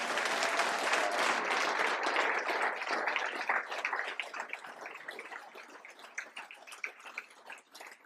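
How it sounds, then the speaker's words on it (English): A ballroom audience at a college athletics Hall of Fame induction ceremony applauds its inductees, a full wash of clapping that gradually thins into scattered individual claps and fades away. "give a group round of applause for all of our inductees"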